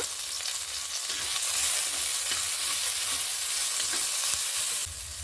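Chopped onion and slit green chilies frying with salt in a little oil: a dense, even sizzle close up, with occasional light scrapes of stirring and no talking.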